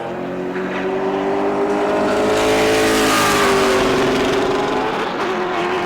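A Pro Late Model race car laps the track at New Smyrna in qualifying, its engine roaring loudly and steadily as it comes out of turn 2 and down the backstretch, with the pitch rising and shifting.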